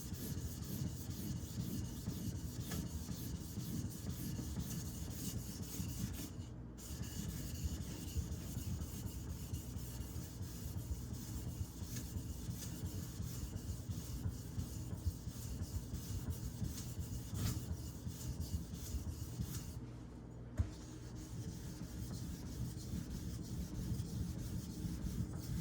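A Karaku AS 210mm gyuto knife is sharpened and polished on a whetstone, making a faint, steady rasping rub in repeated back-and-forth strokes, with no speech.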